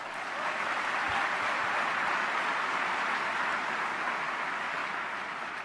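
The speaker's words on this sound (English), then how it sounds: "Give them a round of applause." An event audience applauds members and volunteers with dense, steady clapping that holds at an even level for several seconds and fades slightly at the end, with no voices over it.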